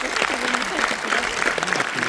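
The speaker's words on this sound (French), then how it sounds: "Je vous remercie de continuer à l'accompagner pendant vos applaudissements." Steady audience applause fills a cinema at a Paris film premiere at the Pathé Palace, dense and continuous clapping throughout, with a voice speaking over it.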